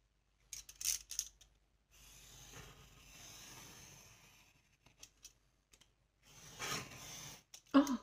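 Scissors cutting through paper while making a mini envelope album, with a steady rasping cut in the middle flanked by short snips and handling rustles, close and quiet, no talking.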